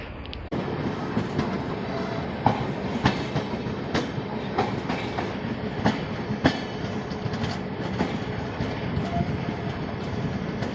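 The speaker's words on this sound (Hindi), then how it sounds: "देखिए हमारी ट्रेन चल रही है।" Sabarmati Express rolling along the rails, with a continuous close rumble and rhythmic clickety-clack wheel beats heard from inside the moving carriage, loud and steady throughout.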